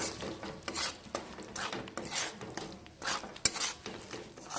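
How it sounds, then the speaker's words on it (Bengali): Steady scraping and stirring of a spoon through frying masala thickened with cashew and melon seed paste in a pan, a close rhythmic rasp with occasional clinks. "দিয়ে আমি আবারও কষিয়ে নেব।"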